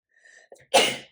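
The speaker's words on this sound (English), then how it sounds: "I have to sneeze." A single close sneeze: a short sharp inhale followed by an explosive burst of breath, loud and abrupt, with no other sound around it.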